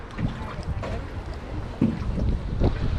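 Gusty wind buffets the microphone on a boat during a spring white bass fishing trip, a steady low rumble with occasional stronger gusts and faint water movement throughout.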